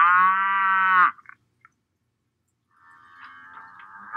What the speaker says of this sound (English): A cow goes moo